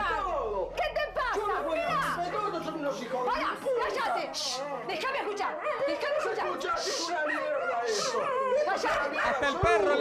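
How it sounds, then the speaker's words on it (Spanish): Excited chatter and children's voices fill the scene while a dog barks and whimpers intermittently in the mix. "Hasta el perro ladra, mira."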